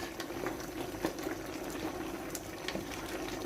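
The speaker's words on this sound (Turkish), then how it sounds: "Güzelce kaynadı yumuşadı biberlerimiz." Quiet, steady bubbling of water boiling in a pot of red kapya peppers, with small pops scattered throughout and no voices.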